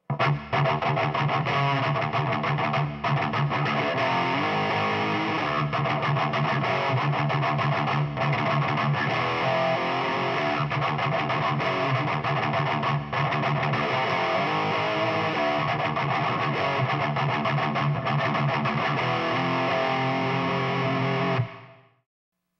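A heavily distorted electric guitar plays a slow, chugging metal rhythm riff for over twenty seconds, loud and dense, then cuts off abruptly.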